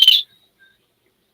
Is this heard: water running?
no